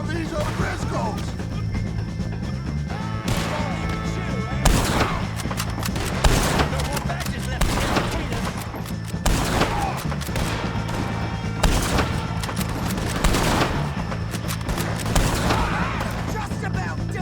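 Repeated gunshots and heavy gunfire bursts from a Red Dead Redemption 2 shootout against the O'Driscolls, loud sharp cracks every second or two over a steady low rumble, with shouting voices mixed in.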